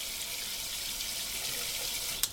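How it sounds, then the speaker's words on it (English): Tap water runs steadily from a kitchen faucet fitted with a diverter valve, a constant hissing splash with no break, ending in a brief click near the end. "now the tap water is going to get diverted down this hose through the machine"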